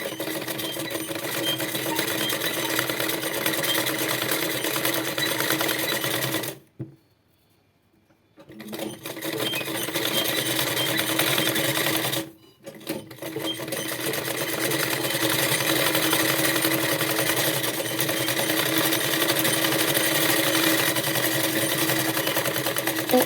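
A sewing machine stitches a saree being made into a gown, a steady rapid mechanical whir that runs on and off, with two short pauses in the otherwise continuous stitching.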